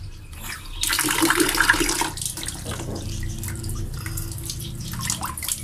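Water is poured over fresh alfalfa (lucerne) to rinse off soil: a loud splashing burst of about a second, then a quieter trickle and drips, with no talking.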